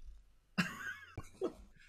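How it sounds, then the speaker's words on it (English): A single loud, gurgling burp stands out in a quiet room, followed by a couple of shorter throaty grunts. "It's rather rude. It's a burp."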